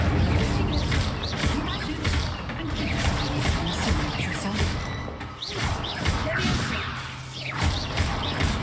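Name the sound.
Incendio fire spell cast in a Hogwarts video game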